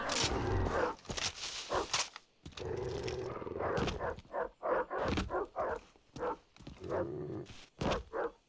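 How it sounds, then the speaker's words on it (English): Dogs in the Far Cry 3 video game, growling and barking in a dense, loud burst of repeated calls mixed with game noise and movement, continuous through most of the clip. "Fucking dogs."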